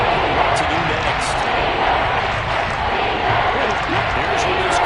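A steady, loud roar from a stadium crowd at an American football game featuring the Texans on third down, with a commentator talking over the sustained noise.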